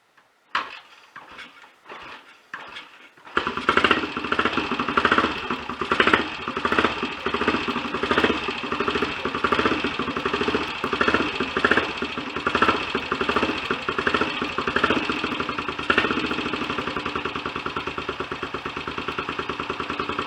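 Royal Enfield Olympic 250 motorcycle engine started stone cold after a top-end rebuild: a few kick attempts, then it fires and settles into a steady, close, uneven idle that runs on alone.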